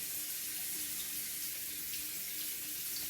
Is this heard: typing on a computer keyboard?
no